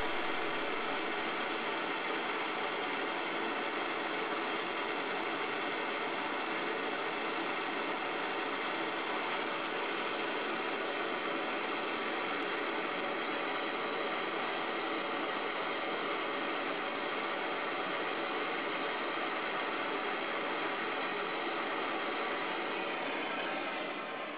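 A steady, continuous mechanical whir and hiss from a slowly rotating rubber bung turning a suspended glass tube during glasswork, with a torch heating the tube's middle, holding constant and loud without pause.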